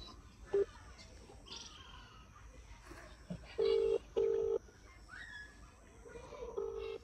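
Phone ringback tone on an outgoing call, heard as several short paired beeps that repeat at intervals over faint outdoor background with birds.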